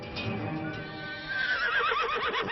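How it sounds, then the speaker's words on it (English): A horse whinnies close by, a long shrill neigh rising and wavering in the second half, with faint hoof shuffling underneath. "Calm down, you crazy horse."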